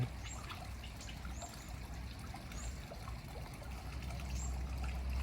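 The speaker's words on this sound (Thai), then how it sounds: "ในสวนนะครับทำเสียงน้ำไหลเบาๆ" Gentle water trickles steadily through a garden at a café, a soft continuous flow at moderate distance, with faint bird chirps above it and no talking.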